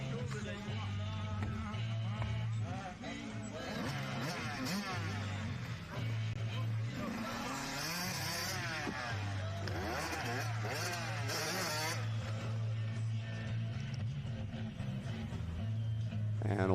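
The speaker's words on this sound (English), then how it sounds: "watching the Kawasaki machine of Austin powering his way around the outside, launching over that tabletop" Kawasaki motocross bike racing on the ClubMX practice track with other youth bikes, a steady loud engine drone with revving swells throughout, under a commentator's continuous talk.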